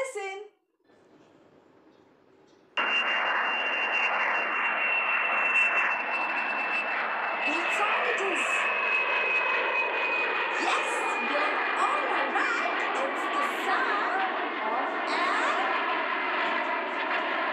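After a brief quiet start, a steady airplane engine drone sets in and holds loud and even, with a high whine running across it.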